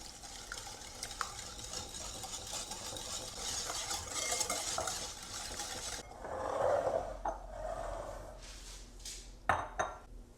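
Buttermilk, brown sugar and vanilla extract being stirred together in a bowl for banana bread batter, with a steady scraping clink of a utensil against the dish, then softer wet mixing sounds and a few sharp taps.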